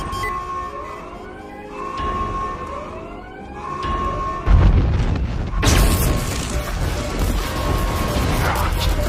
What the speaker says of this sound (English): Torpedo has detonated.